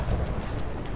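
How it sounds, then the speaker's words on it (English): Rain falling in the strategy game Warhammer 40k: Dark Crusade, a steady dense wash of patter with a low rumbling undertone, continuous and fairly loud throughout. "Oh God, it's raining."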